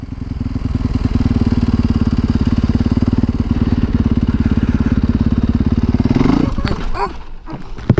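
A Yamaha dirt bike with Shinko tyres chugs loudly and rhythmically as it climbs a staircase, its engine note pulsing steadily before bogging down and cutting out near the end.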